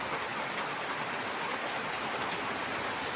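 Steady rain falling outdoors on a Friday, a dense even hiss of drops on surfaces that stays unbroken and fairly loud throughout, with no talk.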